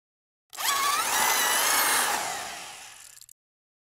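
A power drill with a 4.5-inch hole saw bites into a septic tank wall, a loud, steady grinding whine that starts abruptly, holds for nearly three seconds, then cuts off.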